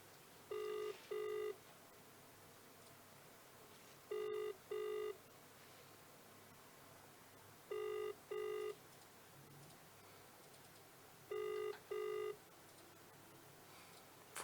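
A telephone ring-back tone sounds in four evenly spaced pairs of short beeps, faint and clean over low background hiss, with the call going unanswered and no talking.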